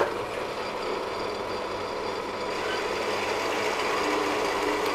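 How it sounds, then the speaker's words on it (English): A bandsaw cuts through aluminium rod with a continuous, loud broadband whir and hiss that holds steady for the whole span and swells slightly toward the end. "first we're going to cut off a bit of aluminium rod"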